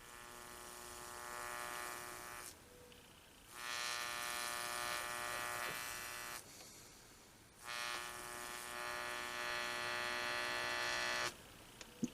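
An electric etcher buzzes while marking a fillet knife blade, its steady hum switching on and off in long bursts of several seconds separated by short pauses.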